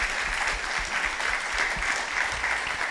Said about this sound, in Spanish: Un aplauso para el panel, por favor